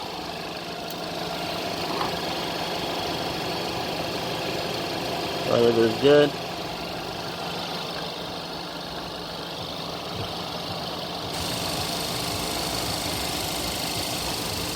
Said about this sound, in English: Listen to the engine here.